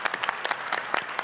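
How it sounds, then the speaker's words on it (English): A short round of applause for entrepreneurs at an evening pitch event in Denver, with scattered claps rising over a moderate, steady crowd patter. "Let's give a round of applause to all the entrepreneurs that presented tonight"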